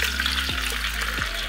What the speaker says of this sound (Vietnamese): Giờ tôi sẽ cho nước xuống chảo làm canh nha các bạn nhá.